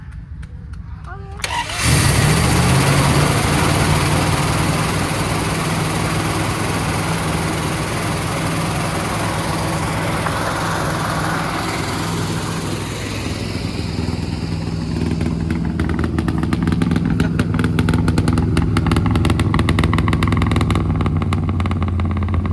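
A 1968 Dodge Polara V8 fires up after a four-barrel intake and carburetor swap, then settles into a loud, steady rumbling run close by, with people talking over the engine noise.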